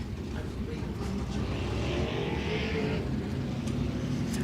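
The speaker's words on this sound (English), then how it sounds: "Cars on the track to begin their hot lap sessions" Modified race cars roll onto the dirt oval at Mississippi Thunder Speedway for hot laps, a steady distant roar of several engines blending into crowd and track ambience, with no distinct passes.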